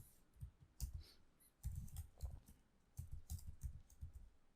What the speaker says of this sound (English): key in 1 2 3 4 5 6, the password which you set earlier, enter, and now you type that